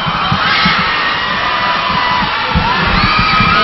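Crowd at a volleyball match cheering and shouting loudly, a dense roar of voices with bursts of yelling as a player steps to the line to serve.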